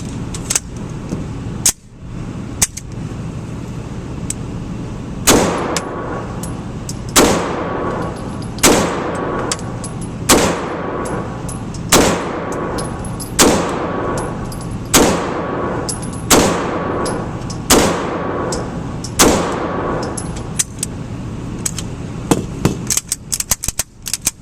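Beretta 92X pistol fired at an outdoor shooting range, about ten sharp loud shots spaced a second or two apart over a steady background rumble, with faint shots from other shooters.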